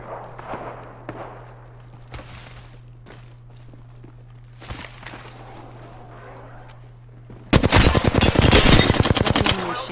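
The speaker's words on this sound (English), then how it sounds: "Yeah, I'm getting shot at." Video game gunfire: scattered sharp shots and footsteps in the first part, then a sudden loud, rapid burst of automatic fire near the end, with no talking.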